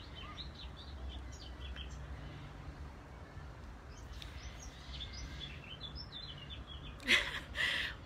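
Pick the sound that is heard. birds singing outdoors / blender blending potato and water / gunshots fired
birds singing outdoors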